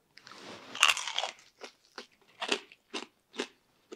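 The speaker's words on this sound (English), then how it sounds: "Crackling sounds good." Biting into crunchy crackling on a charcoal-grilled pork chop: a loud crisp crunch, then a series of sharp chewing crackles in a steady rhythm, close up with no talking.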